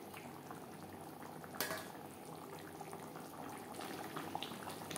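Bhola bhetki fish curry simmers in gravy with a quiet, steady bubbling and a soft liquid burble, faint and close, with one brief louder clink early on.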